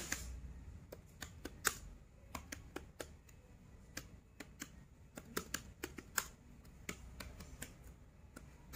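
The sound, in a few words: typing on a computer keyboard and pressing enter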